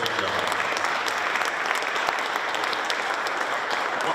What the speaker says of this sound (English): I think we all really should give him a round of applause.